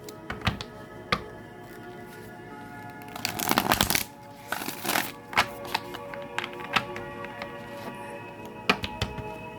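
Cards being shuffled by hand during a spiritual tarot-style reading, heard as repeated crisp riffling bursts with sharp taps between them, close and fairly quiet with no talking.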